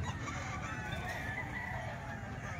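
Young gamecock stags crow and cluck nearby, a steady mix of fowl calls over a constant background.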